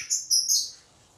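Rosy lovebirds in a cage give a few sharp, high chirps in quick succession, close and clear, then fall quiet.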